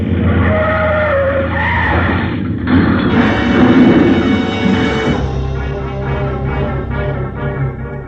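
Radio drama sound effect of a car smashing into a plane as it taxis: a loud, continuous crunching and scraping roar, with a heavy impact near the middle and a sustained rumbling tone after it.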